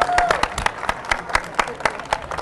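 A conference crowd at a talk about ACTA claps in a steady rhythmic beat, roughly ten sharp synchronized claps with murmuring voices mixed in.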